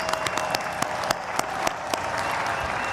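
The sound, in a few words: audience applause after dance performance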